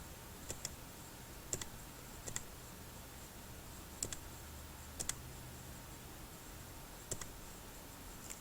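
Sparse computer keyboard key presses while a birth date is entered into a school account form, a handful of crisp clicks spread irregularly across a quiet background.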